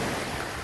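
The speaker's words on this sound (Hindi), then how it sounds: "लहरें देखो क्या खूबसूरत है, शांति कितनी है, लहरों की आवाज" Ocean surf on a Goa beach gives a brief, steady hiss of breaking water, soft and continuous with no voices over it.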